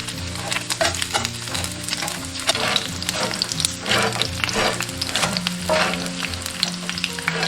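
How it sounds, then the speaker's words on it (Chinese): Duck pieces pan-frying in hot oil with fried ginger slices sizzle loudly and continuously, with crackling pops and occasional scraping stirs of a spatula in the pan at close range. "煎至2面金黄，下入炸好的姜片"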